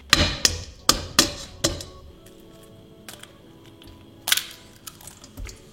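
Eggs are cracked for a home recipe, several sharp shell taps in quick succession near the start, then a few scattered clicks and knocks in a quiet kitchen.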